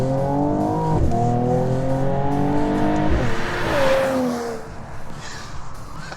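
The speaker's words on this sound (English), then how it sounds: "put it in Sport Plus mode, and I'm going to shift with the paddles" A 2019 Mercedes-AMG CLS 53 engine revs hard in Sport Plus mode, climbing through several quick paddle upshifts with stepped pitch rises, then easing off as the engine note fades toward the end.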